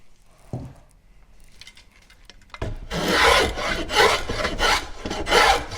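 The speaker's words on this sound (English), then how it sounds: "I'm going to take some shavings off the middle so that we can get rid of that wobble" A hand plane shaving the bowed middle of a wooden board, its strokes sounding as several close, loud rasping swipes in a steady rhythm after a couple of quiet knocks.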